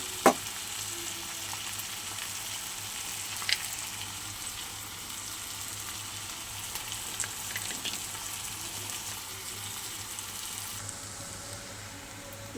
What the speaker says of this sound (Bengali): চলো এবার বাদাম আর চাউমিনটা দিয়ে দেবো